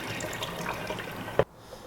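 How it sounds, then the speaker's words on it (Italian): Soaking water pours out of a bowl of soaked potatoes, a steady close splashing rush that stops abruptly, followed by near silence. "A questo punto eliminiamo l'acqua"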